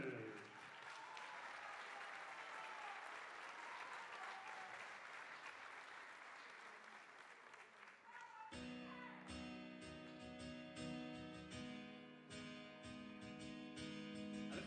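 An audience at a 2023 singing workshop applauds a singer for about eight seconds of dense, steady clapping, and then a ballad with loud instrumental backing takes over.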